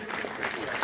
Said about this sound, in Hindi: आपका भी स्वागत जोरदार तालियों से